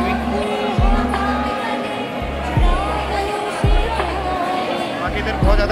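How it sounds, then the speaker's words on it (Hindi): Crowd at Prem Mandir temple in Vrindavan, a steady murmur of many voices with close talking over it and a few louder thumps recurring through the scene. "बाकी इधर बहुत ज़्यादा भीड़"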